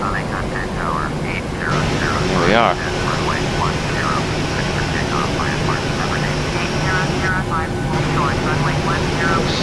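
A Ryanair PMDG 737 jet rolling for takeoff in the FSX flight simulator, with a loud steady engine roar throughout while someone talks over it.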